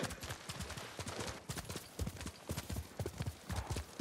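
Rapid clip-clop of several horses' hooves trotting on hard ground in the video game Ghost of Tsushima, steady and overlapping, close and fairly loud.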